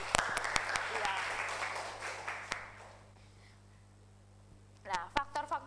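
A classroom bursts into applause for the students, a dense burst of clapping that fades out over about three seconds, followed by a quiet room and then a voice speaking.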